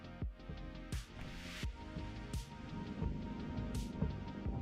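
Rain patters steadily in a driving video game on a virtual commute, with periodic low thumps and brief bursts of splashy noise rising over the continuous downpour, no speech.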